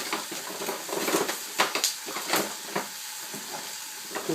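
Bacon with honey frying in a non-stick pan gives a quiet, steady sizzle, with scattered scraping and tapping from a spatula stirring the pan.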